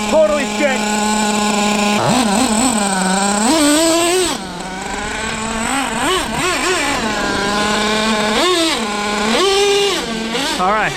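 A Traxxas T-Maxx RC truck with an OS 21 nitro engine revs and buzzes as it drives, pitch sweeping up and down in repeated bursts, loud and close.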